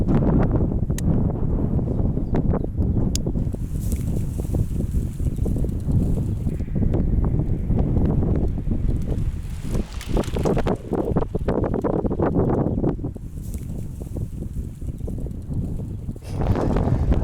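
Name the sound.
strong wind blowing into microphone while riding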